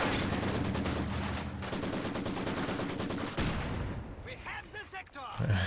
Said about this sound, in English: this is a very aggressive Bofors from Liquid Sport